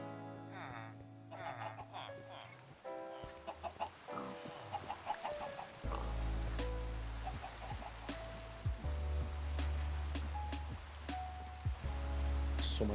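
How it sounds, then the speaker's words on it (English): Steady rain falls in the video game Minecraft, a soft continuous patter with scattered droplet ticks, fairly quiet, mixed with background game sounds and clucking chickens. "So much rain, it's gotta stop."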